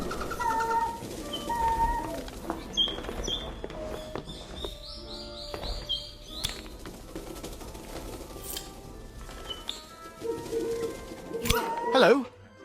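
Owls in the Magic Awakened video game hoot and chirp in short bird-like calls, scattered through the stretch among other game sounds and a speaking voice.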